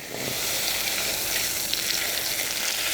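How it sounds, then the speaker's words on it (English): A steady, loud sizzle of about half a cup of butter in a hot pan, continuous crackling hiss with no talking. "Oh, nice and sizzle. Pan is nice and hot."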